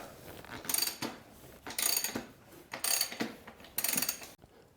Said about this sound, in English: loosen off the lock nut first on both sides, and then you can loosen off the rear axle nut